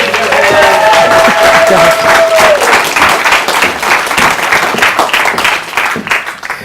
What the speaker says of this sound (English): give our last speaker a massive round of applause